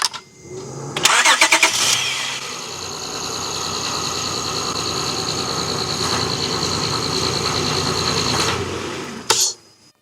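An Acura TL V6 is jump-started from dead with a supercapacitor booster: a brief cranking burst, then the engine catches and settles into a steady, close idle for several seconds before a sharp click near the end.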